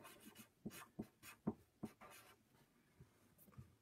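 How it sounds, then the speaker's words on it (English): Pencil or pen scratching a name onto paper in short, quiet strokes, several distinct scrapes with brief pauses between, faint and close with no talking. "I want to write my name in the corner here"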